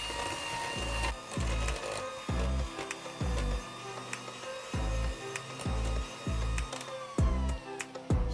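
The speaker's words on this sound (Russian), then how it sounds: "Берем миксер и на маленьких оборотах сначала смешиваем все до однородности" A hand mixer runs on low speed through cake batter with milk, its motor cutting in and out in short bursts with a rattling hum, close and fairly loud, and faint beaters clattering against the bowl.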